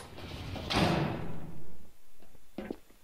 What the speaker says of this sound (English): if the door opens, let me close it